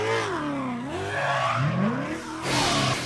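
Ken Block's 1400-horsepower Mustang engine revs hard and continuously while the car is driven sideways, its pitch rising and falling with each throttle change and a hint of tire squeal.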